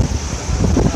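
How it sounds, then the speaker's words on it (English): Roar of Athirapalli Falls, a misty cascade of several waterfalls about 50 metres away, a dense continuous rushing wash mixed with wind buffeting the microphone. "we are as close as around 50 meters or 50 feet from the waterfall, main waterfall."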